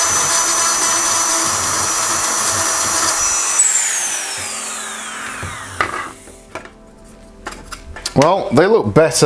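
A rotary tool with an abrasive sanding bit grinds against a repaired part in steady high bursts for several seconds, then stops; a person speaks briefly near the end.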